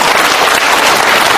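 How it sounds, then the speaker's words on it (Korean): Audience at a Korean lecture applauding, a dense burst of clapping from many hands, loud and close, lasting only a moment. "박수 한번 주시죠"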